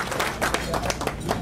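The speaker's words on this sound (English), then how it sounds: "Let's give yourself a round of applause for achieving that for our residents." A city audience applauds at a State of the City address, a short burst of dense, steady clapping at moderate volume that holds level throughout.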